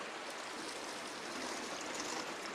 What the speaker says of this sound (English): just want to rinse this all off